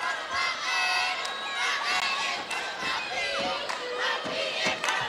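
A college basketball crowd with a student section roars and cheers continuously, loud and dense, with shouts and whistles rising above the sustained noise.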